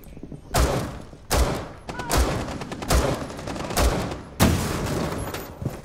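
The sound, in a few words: gunfire in the video game Rainbow Six Siege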